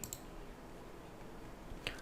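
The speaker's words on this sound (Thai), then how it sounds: "คลิกเมาส์ซ้าย" A few faint, sharp computer mouse left-clicks, one at the start and one near the end, over quiet room hiss.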